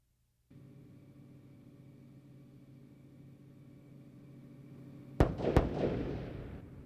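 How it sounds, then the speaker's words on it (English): Twin sonic booms from Space Shuttle Columbia returning over Florida's Space Coast ring out as two sharp, loud cracks in quick succession over a steady background hum, followed by a rumbling decay. "Twin sonic booms as Columbia has gone subsonic."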